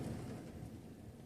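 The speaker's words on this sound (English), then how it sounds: "A rainy night in Arizona." Steady rain falling on a night in Arizona, a dense continuous wash of drops with a low rumbling undertone, close and even throughout with no voices.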